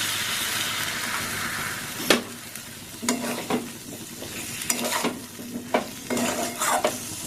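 Spiced masala sautéing in a pan with salt and a splash of water, a sizzle under repeated sharp scraping clinks as a spoon stirs, irregular and close, with no speech.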